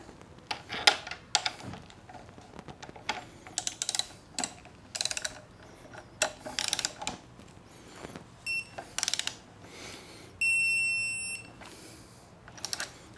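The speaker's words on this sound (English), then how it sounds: "Have the torque wrench set to 38 foot-pounds." A torque wrench tightening front fender bolts on a 2023 Honda CL500 motorcycle, heard as scattered close mechanical clicks and ratcheting, with a few short electronic beeps and tones near the end, and no talking.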